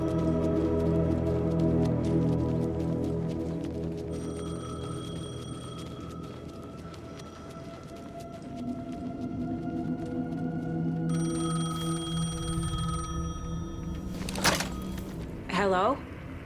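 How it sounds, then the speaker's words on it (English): A payphone in the video game Alan Wake 2 rings with repeated electronic tones over a low, droning ambient score, followed near the end by a sharp pickup sound. "The payphone was ringing."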